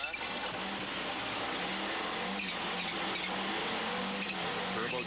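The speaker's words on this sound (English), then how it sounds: "Turbocharger chirping as he's on and off the throttle constantly." A rally car at the 1999 Rallye Perce Neige roars loudly and continuously as the driver works on and off the throttle, the engine note rising and falling under a dense, steady wash of noise.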